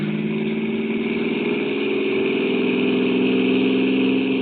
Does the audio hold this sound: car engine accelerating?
yes